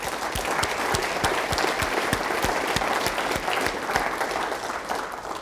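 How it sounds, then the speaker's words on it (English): A meeting audience gives a round of applause for honored colleagues, full steady clapping from many hands with a few sharper nearby claps standing out throughout. "I'd like us to give a round of applause to these colleagues"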